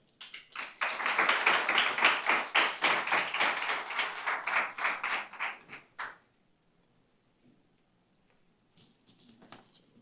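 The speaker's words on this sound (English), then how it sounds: "give her a round of applause" Clapping at a scholarship award ceremony, a burst of moderately loud hand claps lasting about six seconds before fading into near silence, with faint murmuring near the end.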